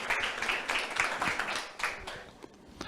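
An audience at a Provence-Alpes-Côte d'Azur awards ceremony breaks into brisk, scattered applause, the clapping fairly close and thinning out toward the end.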